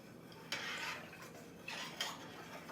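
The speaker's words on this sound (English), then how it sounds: "We need to stir it." A spoon stirs mulled apple cider in a pot, with a few soft scraping swishes and light clinks, close and quiet.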